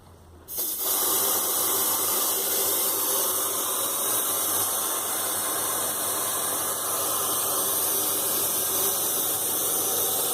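Water from a hose sprays onto a 4WD's snorkel to mimic a heavy Australian rainstorm. A loud, steady broadband hiss starts suddenly after a brief quiet moment and runs unbroken to the end.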